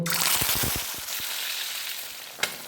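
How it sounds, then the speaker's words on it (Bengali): Fish pieces fry in hot white oil for a Bengali fish rezala, a loud, close, steady hiss and sizzle with a few crackling pops and one brief clatter near the end. "সাদা তেল দিয়ে গরম করে মাছগুলো ভেজে নেব।"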